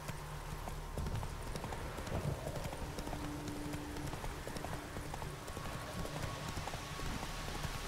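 Steady clip-clop of a horse galloping in The Witcher 3, continuous rhythmic hoofbeats close up, with wind and ambient game noise underneath throughout.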